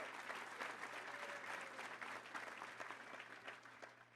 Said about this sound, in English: Please stand and let's give her a round of applause.